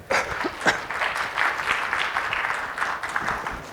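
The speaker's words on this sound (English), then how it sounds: "let's have a huge round of applause for both of them" Sustained applause from a crowd, steady dense clapping that carries on throughout without a break.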